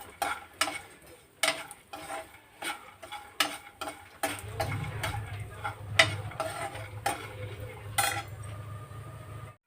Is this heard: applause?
no